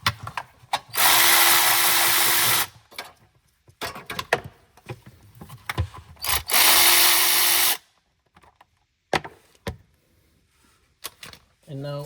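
A power tool spins out the transmission oil pan bolts on a BMW E39 in two sustained whirring bursts. Scattered clinks and knocks of the bolts and tools fall between the bursts.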